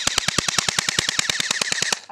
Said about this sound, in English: Flip it upside down and shoot it. It's obliterating the apple.